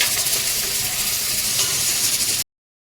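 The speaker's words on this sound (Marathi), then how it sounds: "मसाला छान भाजतोय तुम्ही बघू शकता कांदा टमॅटो अद्रक लसूण" A steady, loud sizzling hiss of onion, tomato, ginger and garlic masala roasting in a hot pan, continuous and close until it cuts off abruptly near the end.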